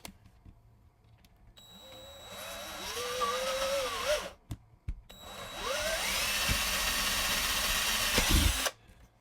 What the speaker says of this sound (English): We're just going to go ahead and drill it.